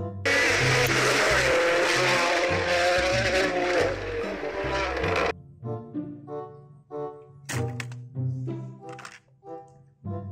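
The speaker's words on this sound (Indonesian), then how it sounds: "ada mobil balap," A race car roars loudly for several seconds with tire squeal and skidding, then cuts off into scattered thuds and short bursts of sound, with no talking.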